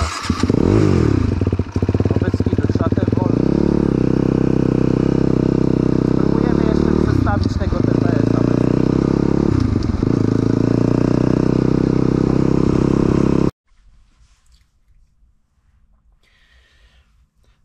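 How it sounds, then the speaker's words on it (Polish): A fuel-injected KTM motorcycle engine with a misfire runs loudly and close, stuttering and dipping unevenly for about thirteen seconds before it cuts off, leaving near silence with faint movement. "To silnik spamował."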